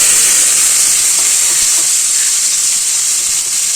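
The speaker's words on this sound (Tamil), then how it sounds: "கடுகும் பெருங்காயம் நல்லா பொரியுது பாருங்கள்" Mustard seeds and asafoetida spluttering in hot oil, a loud, continuous close-up sizzle and crackle with scattered pops, no voices.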